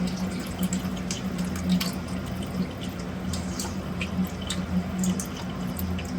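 Dissolved tamarind water is poured through a filter in a home kitchen, a steady close trickle and splash of liquid with faint drips over a low background hum.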